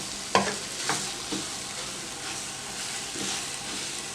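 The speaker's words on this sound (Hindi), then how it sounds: "खोया बहुत जल्दी जल जाता है, तो आपने आंच हल्की रखनी है और चम्मच मसलसल चलाना है" Khoya stirred with a spoon in a pan over low heat while making gajar barfi: soft scraping strokes every second or so over a faint steady sizzle, close and fairly quiet, with no talking.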